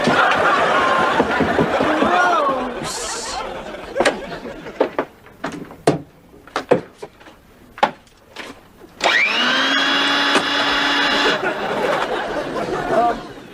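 A household vacuum cleaner starts up and runs loudly and steadily for several seconds, sucking up a bug, following bursts of laughter and scattered sharp knocks.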